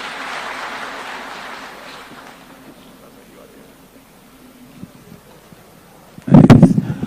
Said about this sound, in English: One more round of applause for His Excellency, please